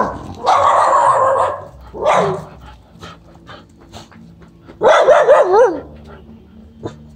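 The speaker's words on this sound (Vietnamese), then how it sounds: "Chó sủa." Dogs at a Buddhist temple in Quy Nhơn, Vietnam bark loudly and close by in several harsh bursts separated by short pauses, with one yelping, wavering cry near the end.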